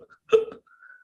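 A person imitates a hiccup with the voice, giving one short abrupt gulping hiccup sound in a quiet indoor setting, followed by a faint trailing tone.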